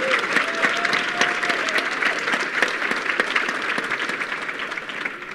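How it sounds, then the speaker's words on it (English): Steady applause from an audience at a summit celebrating American hog farmers: many hands clapping together, with sharp individual claps standing out over a continuous wash and a brief tone under it early on. "So a round of applause,"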